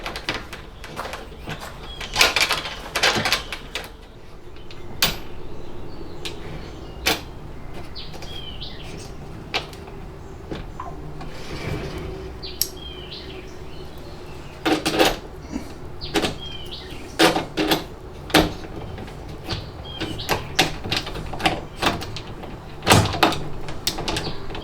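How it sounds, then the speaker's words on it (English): A box truck's sliding door rolling along its metal track, with repeated clanks, thumps and rattles scattered through a steady rolling rumble, close by and with no talk. "right now, the door will just run right off of there"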